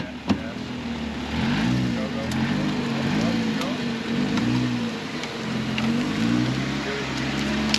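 A stuck Ford truck's engine revs in a sustained, wavering drone that rises and falls for several seconds, loud and close, with voices nearby.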